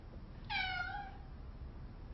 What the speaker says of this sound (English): And then my cat was meowing,